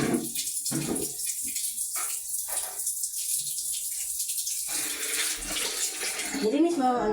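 Water gushes steadily from a tap into a bath, a continuous rushing flow with a voice talking faintly underneath.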